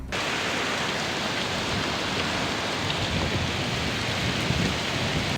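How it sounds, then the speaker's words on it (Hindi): Hail and rain pouring down together during a hailstorm in Jammu and Kashmir, a dense, steady hiss and patter of pellets and drops that holds at an even loudness from start to finish, with no voices. "इसके साथ ही ओले भी गिरे हैं, जिससे लोगों में भय का माहौल बना हुआ है।"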